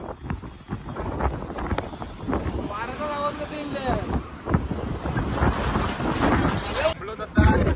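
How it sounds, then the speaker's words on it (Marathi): Strong wind buffeting a microphone in a mountain pass, a constant rough rumbling roar under people talking nearby. "घाटामध्ये हवा जाम आहे इथं. आवाज काही येणार नाही."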